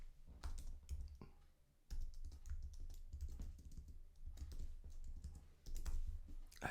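Keys clatter on a computer keyboard in quick irregular bursts of clicks, near and fairly quiet, with short pauses between runs of typing.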